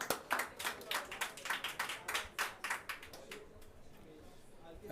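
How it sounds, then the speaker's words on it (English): An audience at a COP28 session in Dubai gives a brief round of applause, a moderate patter of clapping that thins and fades after a few seconds. "So a round of applause."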